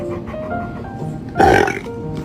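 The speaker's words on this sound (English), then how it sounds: "Can you give me a burp?" A dog gives a short, loud burp midway, heard clearly over a quieter background with faint voices before and after.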